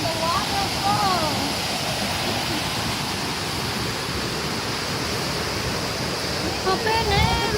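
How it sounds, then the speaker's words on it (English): The waterfall and river at Shifen roar as a dense, continuous wash of rushing water, loud and close, with voices and faint chirping sounds briefly rising over it near the start and end. "We look around about the river and the waterfall."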